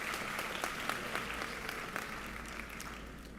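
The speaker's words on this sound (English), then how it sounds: "Come on, y'all give her a round of applause." An audience at a graduation ceremony claps steadily for a scholarship presenter, a dense, even round of applause from a room full of people, with a faint voice underneath.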